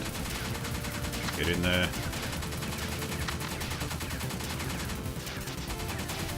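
Gunfire and flamethrower bursts from the top-down shooter Pineapple Smash Crew, a dense continuous rattle of weapon fire with a brief louder burst, mixed with game effects while someone talks over it.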